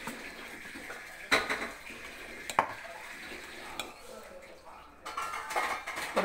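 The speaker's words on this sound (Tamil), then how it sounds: "இதை நல்லா தேவையான பதத்துக்கு நம்ம கலந்துக்குவோம்" Appam batter being mixed with coconut milk in a vessel, with soft stirring and swishing plus a few sharp clinks of a utensil against the pot, close and quiet.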